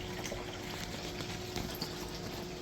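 Water runs steadily through a homemade gold sluice outdoors, a continuous even rushing flow with no pauses and faint splashy texture throughout.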